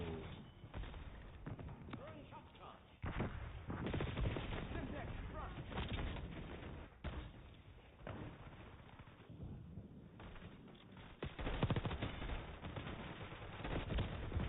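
Dense, continuous gunfire from a shooter video game, with bursts and blasts that swell and thin out over the stretch and rarely stop, played loud throughout under what sounds like faint voices.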